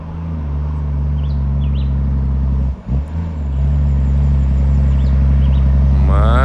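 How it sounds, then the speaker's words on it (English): A heavy International 9300 truck's engine drones loudly and steadily up close on a Jamaican hillside, with a brief dip partway through and rising revs near the end. "International 9300. Not sure of the engine in this truck."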